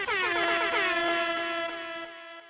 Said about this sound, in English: for air horn